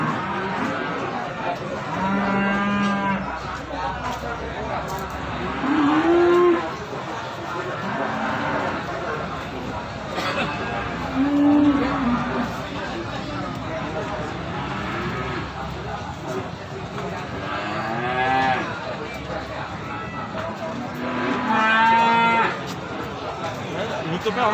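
Cattle moo repeatedly at an Indonesian cattle market in Jetis, Ponorogo, East Java, with several drawn-out calls from nearby animals over a steady crowd murmur and background chatter.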